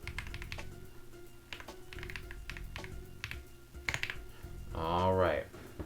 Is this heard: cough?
no